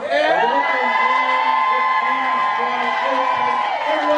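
Wedding guests cheer and whoop loudly and continuously, a crowd of raised voices with a few standout shouts carrying through the whole moment.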